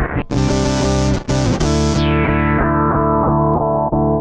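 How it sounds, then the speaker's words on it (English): A bass plays through a fuzz pedal into a filter, a buzzy, thick square-wave tone whose brightness sweeps down as notes are repeated in a steady rhythm. "I have the fuzz pedal going into it to give us that square wave sound"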